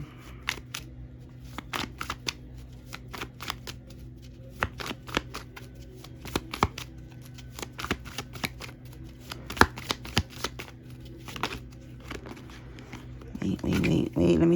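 A deck of playing cards is shuffled repeatedly at close range, giving quick rhythmic riffling and snapping bursts, with a person talking in between.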